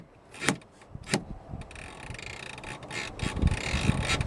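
Car seat lap belt being pulled tight and locking, a few close mechanical clicks and ratcheting bursts followed by rustling strap handling.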